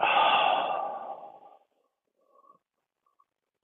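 One deep, forceful exhale during a karate breathing drill, loud and close, fading over about a second and a half, followed by near silence and a few faint small sounds.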